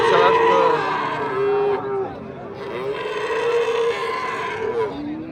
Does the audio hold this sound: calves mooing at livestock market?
yes